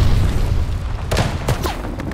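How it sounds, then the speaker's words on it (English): A glide bomb detonates in the Call of Duty: Vanguard multiplayer match, giving a loud, low booming blast with several sharp cracking bursts on top of it. Steady low battle rumble runs throughout. "Heads up, enemy glide bomb coming in hot!"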